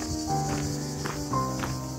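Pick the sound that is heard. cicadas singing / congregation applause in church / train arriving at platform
cicadas singing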